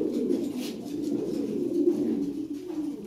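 Lahore Siraji pigeons coo close by in low, rolling, throaty bursts that overlap continuously, with no voices.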